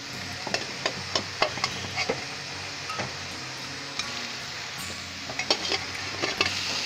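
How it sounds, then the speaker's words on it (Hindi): Boiled jackfruit goes into sizzling masala in a pan and is stirred, with repeated scraping spoon clacks over a steady frying hiss. "अब जैक फ्रूट मसाला में डाल देते हैं।"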